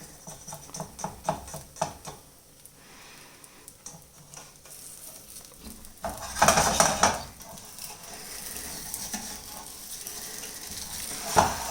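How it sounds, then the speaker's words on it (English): Butter sizzles in a pan while crêpes cook, a steady soft frying hiss under clinks and scrapes of utensils against the pan, with one louder burst of sizzling partway through. "there's a lot of the butter sizzling at the edges of this"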